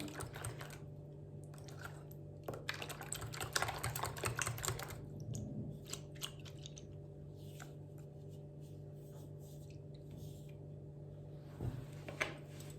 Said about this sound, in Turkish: Sarılarını güzelce çırpalım ki yoğururken içinde top top kalmasın